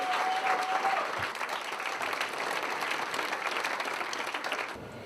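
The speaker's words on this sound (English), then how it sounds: "Let's give them a massive round of applause." An audience applauds Exclusive Books, headline sponsor of a 2014 literary awards event, with dense, steady clapping sustained at full volume for about five seconds, a brief tone sounding at the start.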